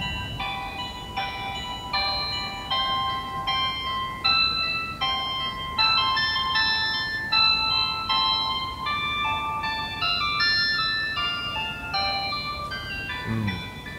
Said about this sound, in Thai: มีเสียงเป็นโนเบสกีตาร์ครบเลย